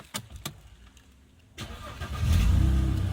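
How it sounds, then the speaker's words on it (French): A Mercedes C300 engine starts up after a few clicks and faint knocks, catching with a rising rumble that settles into a steady, loud idle close by. "On remet la voiture en route."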